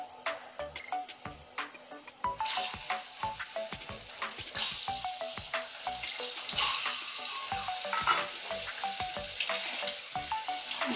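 Eggs coated with salt and turmeric sizzle and crackle in hot oil, starting with a burst of loud frying as they go in and then a continuous busy spatter with sharp pops, with no one talking.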